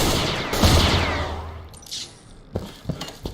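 Gunfire in the shooter Knights of Al-Aqsa Mosque: a loud opening burst that trails off into a fading rumble, followed by a few sharp, separate shots near the end.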